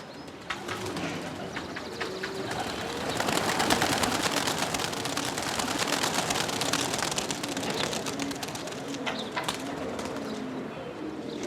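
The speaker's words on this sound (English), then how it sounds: "the pigeon breeders drive their prize birds out of the cages to showcase their aerial skills" Flock of high-flyer pigeons released from cages at dawn for an aerial display, giving a steady wash of flapping and rustling with scattered sharp bursts, a few faint coos and chirps mixed in over a constant outdoor background.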